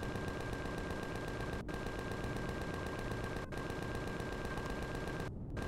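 Rapid, steady turret gunfire in the space survival game Empyrion Galactic Survival (Reforged Eden 2), a continuous loud mechanical rattle of shots running throughout with a couple of brief gaps.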